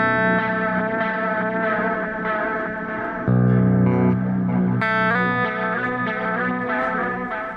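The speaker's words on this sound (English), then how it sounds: "We've got the cassette modulation, which is giving it, as you can see, some static and crinkle." A guitar played through a Meris LVX delay preset with cassette modulation gives sustained, echoing chords with a wobbly, lo-fi warble and a faint crackle, loud and without talk.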